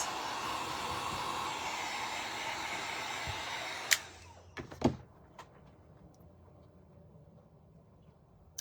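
A hair dryer blows steadily at close range over painted craft pieces for a wooden deer door hanger, then cuts off near the four-second mark, followed by a few light clicks and handling knocks in a quiet room.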